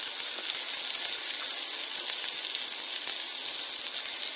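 Baileys French toast frying in a hot pan gives off a loud, steady, bright sizzle that runs unbroken throughout, with no voices.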